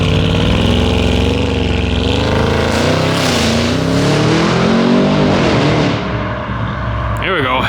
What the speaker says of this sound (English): Heavily modded RS7. Launching it for the boys.